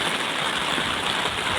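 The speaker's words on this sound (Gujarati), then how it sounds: "આજે 4 તારીખમાં વરસાદ બહુ હારા મારો છે ટાણમાં" Rain falls on farm fields in Gujarat as a steady, dense broadband hiss, loud and continuous with no voices.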